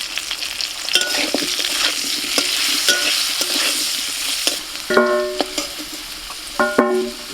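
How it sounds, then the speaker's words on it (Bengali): Potato pieces fry in oil in a kadai with turmeric and salt, a loud steady sizzle broken by repeated scraping and clanking of a spatula against the pan, with two sharper metallic rings near the end. "অল্প একটু হলুদ আর একটু লবণ দিয়ে আলুটা ভেজে নেব।"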